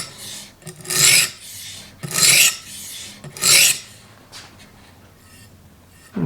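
A kitchen knife is drawn across an extra coarse stone on a TSPROF Blitz guided sharpener, giving three loud, close rasping strokes about a second apart, each a harsh gritty scrape, followed by quieter handling.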